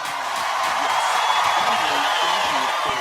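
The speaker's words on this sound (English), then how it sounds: "Everyone give her applause" Studio audience at a live pop-culture game show cheering a winner, a sustained wash of crowd noise with whoops and clapping, with brief voices underneath.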